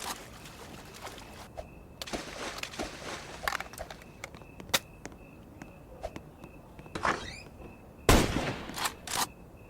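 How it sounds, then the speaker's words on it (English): Sporadic gunshots in a Roblox Brookhaven zombie-apocalypse roleplay game, sharp isolated bangs scattered across the stretch with a louder cluster near the end, mixed with footstep-like thuds. "stop firing those gunshots"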